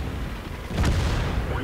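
A tank cannon fires in World of Tanks during a heavy IS-8 battle, one deep booming shot with a low rumbling tail rising out of steady background game noise.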